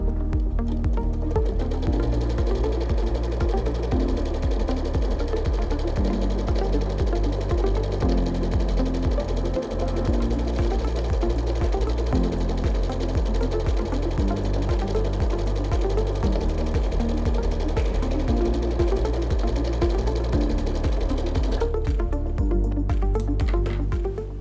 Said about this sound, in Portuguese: agora faremos o zigue-zague em volta das peças para que ela fique toda juntinha